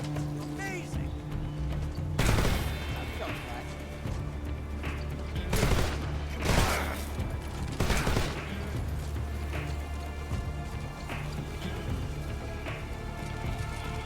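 Gunfire in the Metal Gear Solid Delta video game: several sharp shots and short bursts stand out over a steady droning game soundtrack, with a voice talking now and then.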